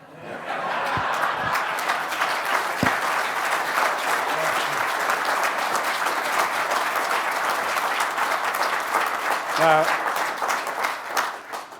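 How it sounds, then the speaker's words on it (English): A reception crowd at a Rare Breeds Survival Trust event applauds warmly and continuously for about ten seconds, with scattered chuckles mixed into the clapping. "the applause, Eric, was for you."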